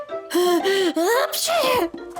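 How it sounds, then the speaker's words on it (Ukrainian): A cartoon child character sneezes from a honey allergy, voiced by an actor: a drawn-out, wavering vocal build-up breaks into a noisy burst, then trails off, close and loud. "він від меду застуджується, он як чхає"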